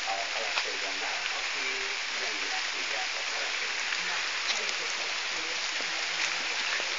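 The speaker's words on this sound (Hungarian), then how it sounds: "Esik az eső," Rain falling steadily outdoors, a loud continuous hiss of drops lasting throughout, with a voice speaking faintly underneath.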